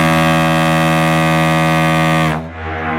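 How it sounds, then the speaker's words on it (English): A deep, steady foghorn sound effect blares loud and unbroken for over two seconds, then cuts off abruptly. "Oh, that is good Foghorn."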